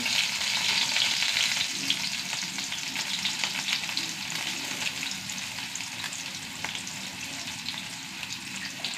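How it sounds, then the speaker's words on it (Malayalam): Onions and dried red chillies sizzle steadily in hot oil with mustard seeds in a home kitchen, a close, continuous crackle with occasional stirring and no talking. "ഉള്ളി നന്നായി മൂത്ത് വരട്ടെ."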